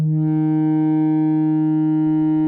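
Sustained guitar feedback from a Digitech feedback pedal held down, a steady loud tone with rich stacked harmonics ringing unbroken throughout with no playing or talk.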